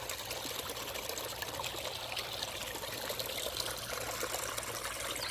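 Water pours steadily off the end of a gold prospecting sluice into a deep hole, making a continuous close rush and trickle with no pauses and no talking.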